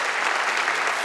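A church congregation claps together in dense, steady applause for a full second, loud and close with no talk over it.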